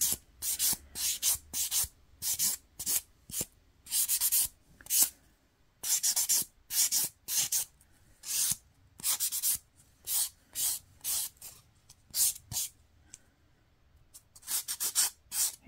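Dip powder nails being filed, a dry scratchy rasping in quick bursts of strokes with brief pauses between them, close and steady with no talking.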